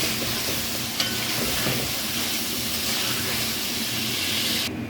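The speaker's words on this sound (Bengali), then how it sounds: "কড়াইয়ে আবার তেল দিয়ে দিয়েছি, দিয়ে দিব এলাচ, তেজপাতা, তারপর হচ্ছে দারচিনি, দিয়ে দিব পেঁয়াজ।" Cardamom, bay leaf and cinnamon sizzle in hot oil in a wok while cooking red spicy chicken kosha, a steady close hissing crackle with a small knock near the start, continuing evenly and stopping just before the end.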